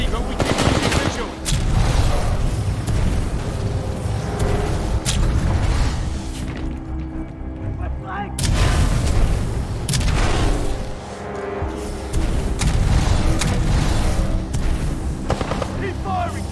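Heavy gunfire and explosions from the video game Titanfall 2 combat campaign: loud, dense bursts of rapid shots and booming blasts, nearly continuous with brief lulls, with a voice shouting over the battle.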